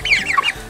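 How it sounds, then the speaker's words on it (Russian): Month-old chicks give a short burst of bright, chirping clucks, close by and fairly loud, with no voices. "Ну что, смотрите на моих курешечек."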